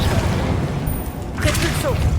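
Confringo fire-blast spell in the video game Hogwarts Legacy, a couple of short booming bursts over a dense rumbling game soundscape.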